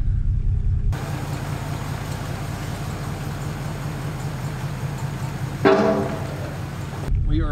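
Low, steady rumble of an old Ford flathead V8 engine idling as the car rolls slowly down a lift ramp, close by, with a brief voice breaking in near the end.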